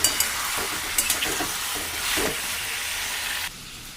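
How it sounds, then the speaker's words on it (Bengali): Dried red chillies frying in a pan of oil and vegetables for chilli soybean, a steady loud sizzle with a few scraping stirs, the hiss dropping abruptly near the end. "এবার দিয়ে দেবো শুকনো লঙ্কা। এটাকে হালকা করে ভেজে নেব।"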